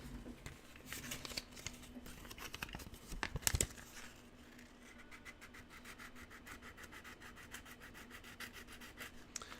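Sandpaper of a finer grit rubs over rivet detail on a model Geep locomotive, giving a steady close-up scratchy rasp in repeated strokes with a louder burst partway through, and no talking.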